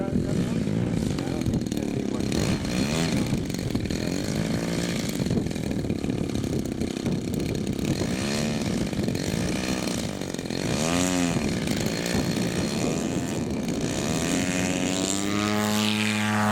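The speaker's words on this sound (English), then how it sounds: "You didn't need much runway at all, Donnie." A radio-controlled model airplane engine at a club field runs with a loud, buzzing propeller whine that rises in pitch as the plane takes off after a short run, with people talking over it.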